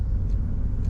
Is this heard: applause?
no